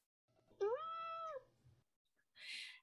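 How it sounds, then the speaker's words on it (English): A single drawn-out cat meow in an audio drama rises and then falls against near silence, followed by a short breathy hiss. "That cat again."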